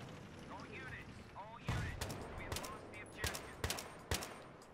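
Gunfire sounds in a Battlefield 3 match, with sharp scattered shots and short bursts over a low rumbling battlefield background, and voices are faintly present.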